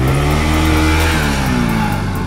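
A motorbike engine revs hard on a rough off-road trail in the Mardi Himal area of Nepal, a loud, close, continuous growl with rising and falling pitch.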